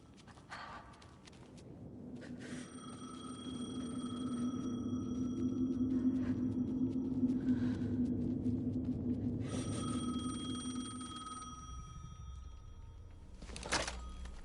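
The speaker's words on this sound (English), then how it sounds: "The phone again." A telephone rings in the video game Alan Wake 2, with several bright, repeated ring bursts over a low, steady droning ambience and a sharp knock near the end.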